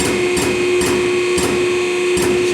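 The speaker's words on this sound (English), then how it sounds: "One more time, I'll reclamp it." An Extrude Hone Profile 150 abrasive flow machine reclamping a part, heard as a steady loud mechanical hum with four sharp periodic clunks spaced under a second apart.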